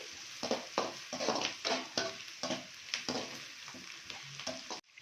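Chicken pieces fry for chicken majestic, a loud, steady sizzle broken by repeated scraping stirs of a spatula through the pan, close up, with no voices, cutting out abruptly at the very end.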